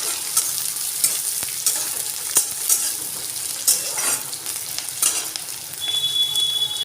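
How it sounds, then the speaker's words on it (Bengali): Carrots and chopped tomato sizzle steadily as they fry for a masala dosa potato filling, with a spatula scraping and clinking against the pan at irregular intervals throughout. "আমি একটু গাজরটা বেশ নরম করে ভেজে নেব।"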